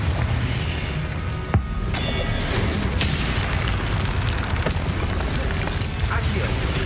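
Confringo fire-blast spell cast in Hogwarts Legacy, with a few soft booms and pops over a steady, dense game soundscape of music and ambience.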